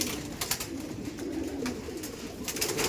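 Madras pigeons cooing in a loft, soft low continuous coos under a steady bed of background noise, with faint higher chirps and rustles scattered through.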